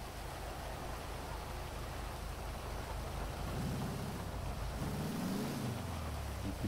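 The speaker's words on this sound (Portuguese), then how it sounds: "Na chuva." Rain falling in Grand Theft Auto V, a steady hiss of downpour with a low engine hum rising and fading underneath, no voices.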